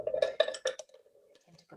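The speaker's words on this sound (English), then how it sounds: "So what I'm going to do is put the lid on." A lid clinks and scrapes onto a glass jar of fermenting pineapple salsa: several close, sharp taps and clatters in quick succession, then quieter handling sounds.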